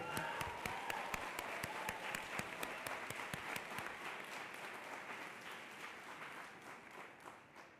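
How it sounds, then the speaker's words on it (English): An audience at a school graduation ceremony applauds steadily, with many hands clapping in a dense, sustained patter that slowly fades toward the end. "I think we can clap for that."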